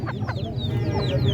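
Aseel chickens cluck repeatedly at a busy poultry market in Quetta, the short rising calls close and clear over a dense background murmur of crowd noise.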